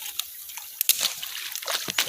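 River water at a riverbank trickles and splashes in small, irregular bursts close by, with no voices present.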